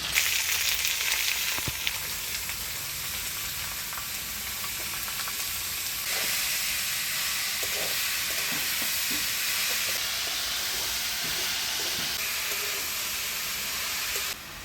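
Ash gourd pieces fry in a spiced oil and paste base with a fish head while being stirred, a continuous loud sizzle broken by scraping spoon knocks and a brief surge partway through.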